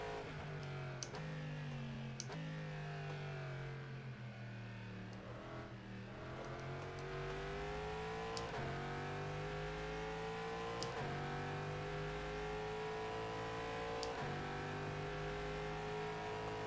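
A race car in rFactor 2 runs at speed, its engine note climbing and dropping through gear changes as a continuous close drone with faint clicking underneath.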